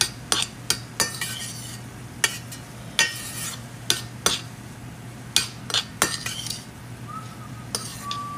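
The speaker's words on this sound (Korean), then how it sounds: "이게 볶은 볶는다는 느낌이 아니라 약간 비빔 느낌으로 가자 좀 더 잘 비벼서" Utensil scraping and clinking in a pan as rice is mixed and lightly cooked bibimbap-style, a series of sharp taps and scrapes at an uneven pace over a low steady hum, close and moderately loud.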